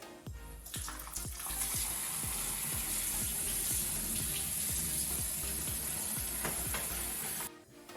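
Tap water streams steadily over beans in a colander or sink, with clattering and splashing; the flow starts abruptly and shuts off near the end.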